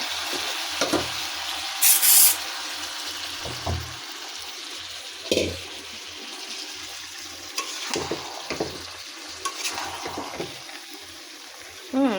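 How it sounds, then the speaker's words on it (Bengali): Chicken and potatoes stir-fried in spiced oil with a little water in a pan for a chicken curry, giving a steady soft sizzle broken by repeated scraping stirs and clinks, with no talk. "এই যে মাংস কষাচ্ছি ভালো করে।"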